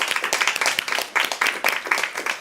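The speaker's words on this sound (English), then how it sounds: "please give an applause to the team and to yourself for supporting this great movement" Audience at a talk on gendered online abuse clapping for the team: a close, brisk patter of many hands at steady loudness, sustained throughout.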